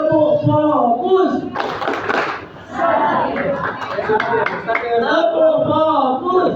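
A group of children at a school do a rhythmic focus clap, loud sharp claps bursting in time amid their chanting voices and crowd noise.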